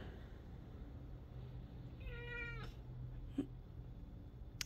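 Birdie, a pet cat, gives a single clear, drawn-out meow at moderate distance over a quiet room hum, followed by a faint soft click.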